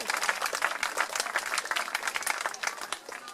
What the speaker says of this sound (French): On les applaudit bien fort pour leur travail, leur présence et leur protection